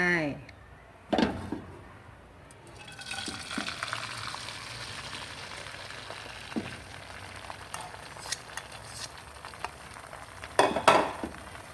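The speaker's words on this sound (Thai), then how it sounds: "เราเอียงกระทะนิดนึงนะคะ ให้น้ำมันไหลไปทั่ว ๆ แล้วเราก็นำไข่ที่เราเตรียมเอาไว้" Beaten eggs poured into hot oil in a tilted pan set up a continuous soft sizzle and crackle, with a brief voice at the start and a few louder spatters near the end.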